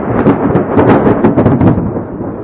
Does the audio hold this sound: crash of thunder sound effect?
yes